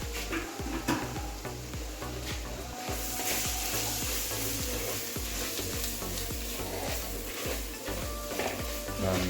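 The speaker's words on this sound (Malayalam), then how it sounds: "നന്നായിട്ട് അങ്ങ് ഇളക്കി അങ്ങ് മിക്സ് ചെയ്യാം" Spiced beef with garam masala and pepper powder being stirred and mixed in a hot pan, continuous loud sizzling and frying with repeated scraping strokes of the spoon against the pan.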